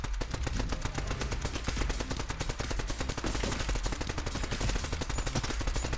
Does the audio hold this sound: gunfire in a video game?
yes